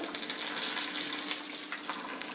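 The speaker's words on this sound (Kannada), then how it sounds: "ಇವಾಗ ಒಂದು ಒಗ್ಗರಣೆ ಹಾಕೋಣ ಪಡ್ಡು ಹಿಟ್ಟಿಗೆ ಸ್ವಲ್ಪ ಕಡಲೆಬೇಳೆ ಉದ್ದಿನಬೇಳೆ ಹಾಕ್ತಾಯಿದ್ದೀನಿ" Chana dal and urad dal sizzle in hot tempering oil, a steady, fairly loud hissing crackle that runs without a break and with no voices.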